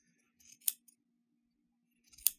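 Long, sharp scissors cut through tassel threads in two crisp, close snips, one early and one near the end, separated by quiet.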